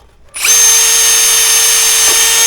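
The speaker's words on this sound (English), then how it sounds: "I'm actually just going to put a rivet in the back because it is so tight." A power drill spins up sharply and runs at a steady high whine while boring a rivet hole in the back of a tight mitred gutter corner on an older house, close and loud.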